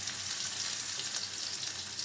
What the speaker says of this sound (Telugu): కాకరకాయ వేంపడానికి.